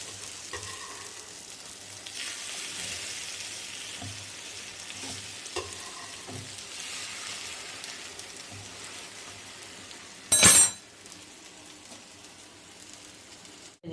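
A vegetable omelette fries in a pan over low heat, a soft steady sizzle running throughout with a brief louder crackle near the end.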